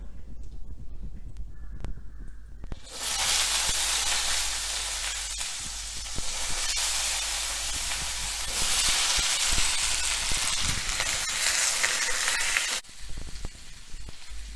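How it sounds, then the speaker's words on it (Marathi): Brinjal sizzles loudly in hot oil with mustard seeds, asafoetida and turmeric, a dense, steady hiss of frying that begins abruptly after a few seconds and cuts down near the end, close up. "आता ही वांगी आहेत ही छान त्यामध्ये परतून घ्यायची आहेत"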